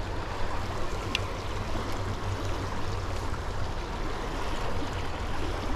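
Fast-flowing stream water on the Little Lehigh in the Lehigh Valley, a steady, dense rushing and gurgling close by, with no pause or talk.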